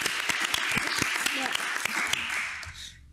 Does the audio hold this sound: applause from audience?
yes